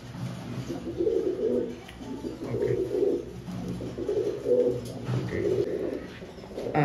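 Pigeons offered for sale, including a female, coo in soft repeated rolling phrases roughly every second, close by and steady throughout with no talk.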